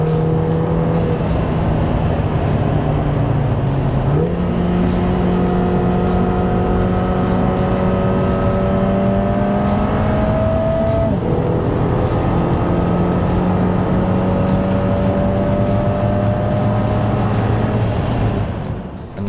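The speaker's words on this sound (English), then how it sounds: "Another stretch to experience the Emira's performance before we went hard on the brakes and realized just how nimble this car was on tighter bends." A Lotus Emira sports car driven hard on the Hethel test track, with engine pitch climbing through the gears and two sharp upshift drops, loud and close for the whole stretch, then easing off at the end.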